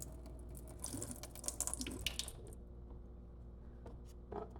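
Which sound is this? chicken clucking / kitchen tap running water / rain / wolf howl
kitchen tap running water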